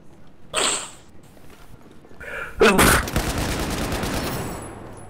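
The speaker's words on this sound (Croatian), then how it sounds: "Čuo sam to igrici kako si kihnuo i našao sam te." A single sharp sneeze in Battlefield 4 on the Operation Locker map, then a loud explosive crack followed by sustained rattling gunfire, game-like and close.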